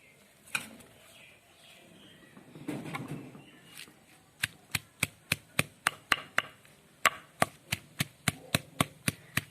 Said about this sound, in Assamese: এতিয়া মই বৰমানমুনিখিনি বটিম, বৰ ধুনীয়াকৈ মিহি কৰি ল'ম।